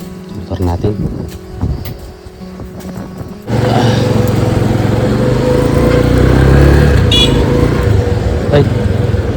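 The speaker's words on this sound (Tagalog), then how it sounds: "sasakay tayo ng motor" A motorcycle starts off and rides steadily toward the mountains, its engine drone loud and continuous after a burst of talk and rattling at the start, with voices heard early on.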